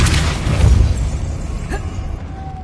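A Depulso spell blast in Hogwarts Legacy on PS5 lands as a loud booming burst up front that fades into a rumbling tail, with a small pop-like accent partway through.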